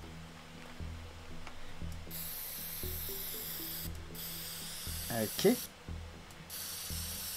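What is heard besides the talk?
spray painting the side of a van in the video game Teardown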